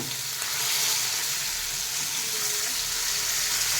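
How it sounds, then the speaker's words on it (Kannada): Masala-coated fish fry in a pan with a continuous, even, hissing sizzle, close and steady throughout with no voices. "ನೋಡಿ ಎರಡೂ ಬದಿಯಲ್ಲಿ ಚೆನ್ನಾಗಿ ಫ್ರೈ ಮಾಡಿ"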